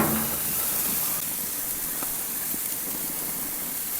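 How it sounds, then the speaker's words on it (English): Burgers sizzle on a grill with a steady, bright hiss that continues without a break. "Listen to the sizzle."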